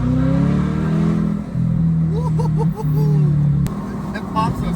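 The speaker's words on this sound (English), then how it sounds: "you guys will be able to hear the exhaust a lot because we have the top off" Stock Chevrolet C8 Corvette with the top off, its exhaust droning steadily close by with a brief lift and re-swell, a few sharp pops near the middle, while people talk over it.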